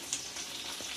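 Cumin seeds hit hot white oil in a pan with dried chillies and bay leaves, giving a soft, steady sizzle with light crackles, quiet and close.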